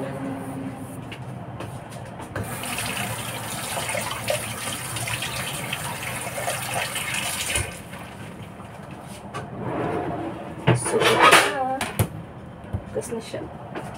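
Guava and banana being rinsed under a running tap, a steady broad wash of flowing water with splashing and handling noises toward the end, a voice speaking over it.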